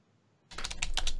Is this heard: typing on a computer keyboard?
yes